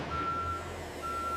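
A Kawasaki truck reverses while being loaded with Kawasaki Vulcan 2000 motorcycles, giving a steady high electronic reversing beep in two long tones over a continuous low engine rumble.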